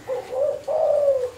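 A zebra dove (perkutut) coos in two drawn-out, tonal phrases, the second longer, fairly close and clear over a quiet background.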